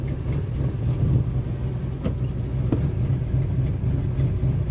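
A 2000 Ford F-150 pickup engine idles unevenly close by at about 1,000 rpm, a low chugging rumble that wavers and stumbles as if about to stall, with no voices.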